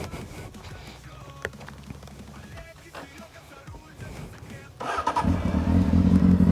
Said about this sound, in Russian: я вам даже запущу мотор